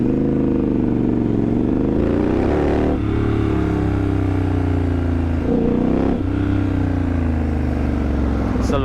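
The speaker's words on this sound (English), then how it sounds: "I'm also loving the grunt from that engine." A Triumph Scrambler 1200 motorcycle engine rumbles loud and close, with deep throaty revs rising and falling a couple of times.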